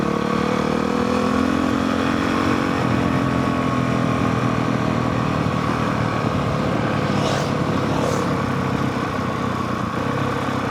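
A motorcycle rides down a mountain canyon road in Farmington Canyon, its engine droning loud and steady close up with wind noise, the pitch shifting slightly as it cruises.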